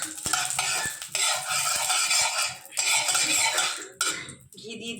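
Ghee going into a hot kadai (wok) for making milk-based patishapta pitha, a bright hissing sizzle with metal spoon scrapes and clinks, close and loud, in bursts with short pauses.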